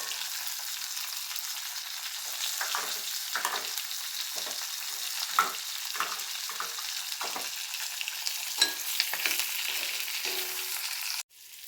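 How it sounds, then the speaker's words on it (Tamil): Coconut and spices dry-roasting in a pan for a neem-flower kuzhambu, with a steady sizzle and a series of scraping stirs, close and continuous, cutting off abruptly at the end. "இதெல்லாம் நல்லா வறுபட்டுடுச்சு"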